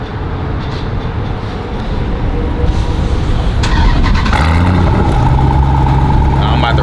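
An SRT Jeep fitted with valved mufflers, valves open, fires up and settles into a loud, deep idle close by. A short squeal marks the start, and the exhaust rumble then holds steady.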